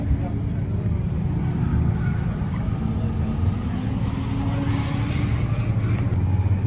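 Drift cars at a Japanese matsuri drift event roar past, engines droning and rising continuously at a distance with crowd noise, while someone talks over them.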